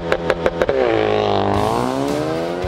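An RS hot hatch on narrow mountainside roads gives a few sharp throttle blips, then holds a loud, close engine roar that climbs in pitch as it accelerates.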